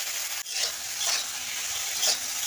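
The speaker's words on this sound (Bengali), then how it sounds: "আলু পটলটাকে সুন্দর করে কষে নেব।" Salted, turmeric-coated potato and pointed gourd sauté in a new iron wok, giving a bright continuous sizzle with periodic scraping strokes of a spatula stirring the pieces, close and without talk.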